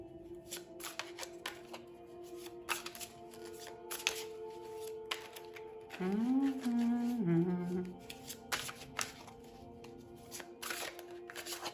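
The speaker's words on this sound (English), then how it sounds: "I'm a messy shuffler tonight." A tarot deck is shuffled by hand in quick, uneven riffles and taps, the card noise close and crisp over a soft sustained musical drone that rises briefly in the middle.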